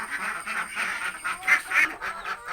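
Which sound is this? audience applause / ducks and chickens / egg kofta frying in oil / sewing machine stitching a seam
ducks and chickens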